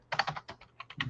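Quick, light clicking of keys on a computer keyboard, a short run of about eight close taps with no voices.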